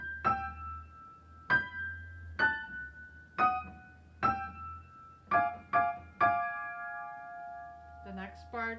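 Both hands play Dance of the Sugar Plum Fairy from the Nutcracker: bell-like struck notes in a plucky rhythmic sequence, close and fairly soft, ending with a quick flurry of lighter notes.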